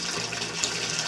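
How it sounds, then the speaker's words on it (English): Water pouring back into a backyard catfish pond, a steady, continuous broadband rush and splash that holds evenly throughout at close range, with no voices over it. "I'm putting the water back into the pond."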